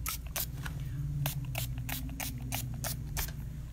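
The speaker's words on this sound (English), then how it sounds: "I'm spraying this water" A spray bottle mists water onto a surface being prepared for a marble paint finish, giving about nine short, sharp hissing spritzes in an uneven rhythm, close and fairly quiet.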